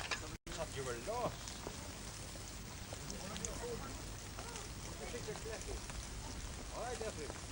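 Steady rain falls outdoors, a dense, continuous hiss of drops that stays loud and even throughout, with voices talking over it at intervals.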